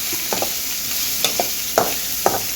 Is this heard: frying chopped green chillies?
yes